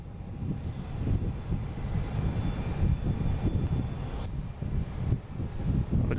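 A Delta Airbus A321 jet bound for Atlanta as flight 399 at Boston Logan airport, a loud, steady broadband engine roar that holds throughout with slight swells and no voices.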